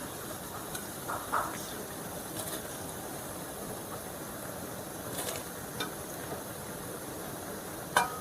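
A pot of water boils hard for blanching mushrooms while making yukgaejang, giving a faint, even bubbling hiss with a few soft clicks and taps.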